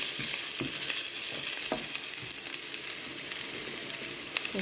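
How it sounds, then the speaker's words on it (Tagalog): Onion and ginger sauté in a hot pan with a steady, dense sizzle and occasional stirring scrapes, close and continuous with no talk. "magigisa na po tayo ng yung onion, saka po yung ginger na dinikli ko ng konti"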